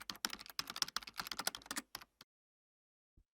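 A computer keyboard typing a save path and file name, a quick run of close, crisp key clicks for about two seconds, then silence with one faint final tap.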